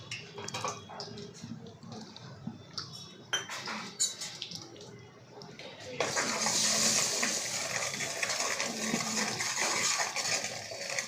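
Red chilli powder, coriander powder and mutton masala hit hot oil for mutton curry, with clinking utensil stirs at first, then a sudden steady hiss of frying that carries on to the end.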